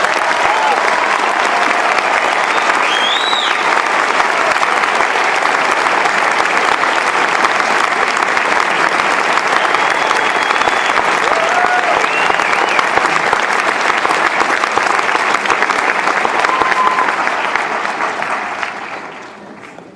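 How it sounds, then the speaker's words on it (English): A large audience at a white coat ceremony for new medical students applauds in a dense, sustained roar of clapping, loud and continuous for a long stretch before tapering off at the end, with occasional faint whoops above it. "all of us ought to give this sea of white coats a great big round of applause"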